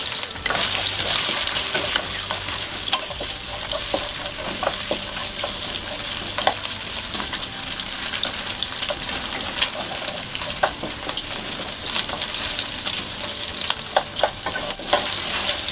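Chicken pieces fry in hot oil with garlic, shallots and ginger, a dense continuous sizzle with occasional stirring scrapes, close and steady with no talking.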